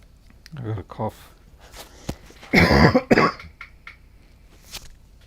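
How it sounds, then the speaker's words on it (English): A person coughs and clears their throat in a few harsh bursts close to the microphone, with quiet pauses between them. "I got a cough."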